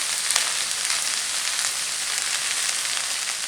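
Tamarind and ajwain (omavalli) leaves sauté in a hot pan, giving a steady, close, bright sizzle that hisses evenly throughout with no talk.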